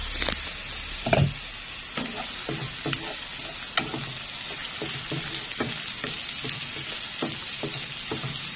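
Chopped onion and tomato sizzle and fry steadily in a hot pan, a continuous close crackle broken by occasional stirring scrapes and clacks, with no talking, while pork and mung beans are sautéed.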